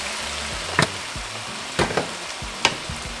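Green chile sauce hits a hot pan of ground beef for sopes, giving a soft steady sizzle with a few sharp crackles and spatters, close by and without talk.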